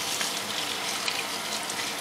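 Fresh tomatoes being washed in a kitchen sink before freezing: a steady rush of running tap water with small splashes and clinks throughout.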